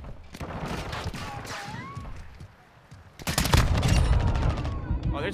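Hip-fired automatic gunfire in Modern Warfare 2 opens up loud and sustained about halfway through, as a rapid stream of close shots. Earlier there is scattered game noise and a voice.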